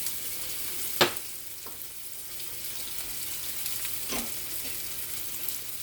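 Chopped onion tempering frying in oil for a Kerala restaurant-style mackerel curry, a steady soft sizzle with a couple of brief louder clinks or stirs, no talking.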